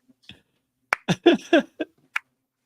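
A few sharp, separate claps land slowly and deliberately, loud and close in a quiet room, in an uneven slow-clap rhythm with gaps between them.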